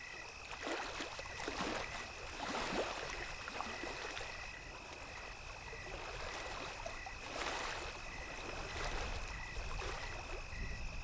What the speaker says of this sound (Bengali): মনের আনন্দে বৈঠা বাইতে লাগলাম